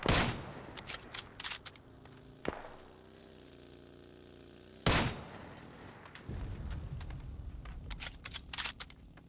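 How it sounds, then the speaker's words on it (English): Gunfire in PUBG on Xbox Series X rings out in loud, sharp shots: a quick volley at the start, single cracks near 2.5 and 5 seconds, then scattered rapid bursts later. The reports are close and punchy over quiet stretches of ambient hum. "I'm firing from over here."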